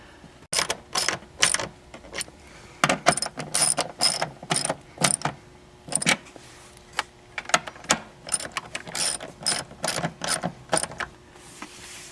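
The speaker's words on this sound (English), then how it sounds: "with the 10mm deep well socket and 1/4 inch drive ratchet" A 1/4 inch drive ratchet with a 10mm deep well socket tightens bolts on a plastic dust boot frame during a C5/C6 shifter install, giving repeated bursts of close, crisp clicking with short pauses and no talking.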